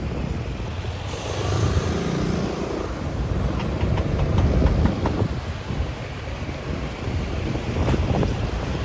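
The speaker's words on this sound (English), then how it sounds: "There's a wind, a breeze." Outdoor breeze in Singapore rushes and buffets the microphone with a steady, moderately loud roar and some low rumbling gusts, without talking.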